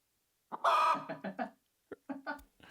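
Chicken clucking used as a sound effect in a metal song, a burst of squawking clucks followed by a few shorter clucks, fairly loud and alone.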